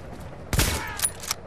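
Gunfire in the video game The Division, one loud close shot followed by two sharper, quieter bursts in quick succession with no talk over them.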